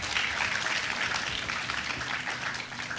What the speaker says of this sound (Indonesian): Mari kita berikan tepuk tangan yang meriah untuk Ketua Panitia acara ini